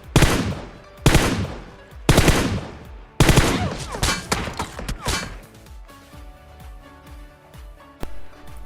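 Mini14 rifle fire in a battle royale video game: several loud, sharp shot bursts at roughly one-second intervals, followed by quieter game sounds and a final faint shot.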